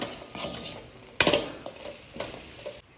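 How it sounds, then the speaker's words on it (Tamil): Fried ivy gourd with turmeric, salt and grated coconut is stirred in a pan: a soft sizzle under several distinct spatula scrapes and clinks, one sharp knock near the middle, close by. "ஃப்ரை பண்ண கோவக்காய் போட்டுக்கலாம்."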